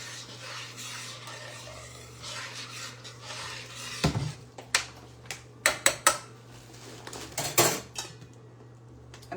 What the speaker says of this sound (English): I'm just going to stir